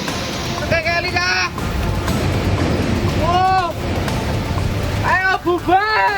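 A cold lahar flood from Mount Merapi surges down the Senowo River in Magelang, Central Java, after heavy rain, a steady broadband roar of rushing water and debris with voices talking over it.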